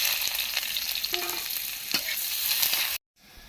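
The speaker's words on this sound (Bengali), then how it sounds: "পেঁয়াজটা ভাজা হয়ে গেছে" Chopped onion fries in hot mustard oil with dried red chillies, giving a steady, close sizzle with occasional stirring scrapes before the sound cuts off abruptly near the end.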